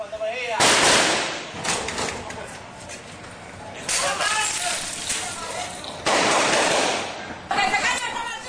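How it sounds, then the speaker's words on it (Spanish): Gunfire during a shootout in Capotillo, with loud bursts of shots and crackling volleys flaring up in several waves over a noisy background, with no clear talk. "Sacan los presos bajo fuego cruzado. Caen balas de todos lados."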